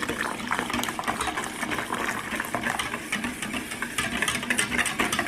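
Hot cream mixture being poured a cupful at a time into egg yolks for homemade ice cream, a steady close liquid pour with soft splashing that carries on throughout without pause.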